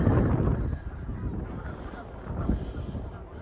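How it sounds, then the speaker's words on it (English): Geese honk faintly in the distance over steady wind rumble, a few scattered calls rising above the outdoor noise, on the University of Regina campus. "You can hear the waterfowl."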